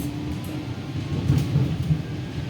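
A Marmaray commuter train on the Gebze–Halkalı line rolls past with a low, heavy rumble and rattling wheels that swell briefly, steady and fairly close.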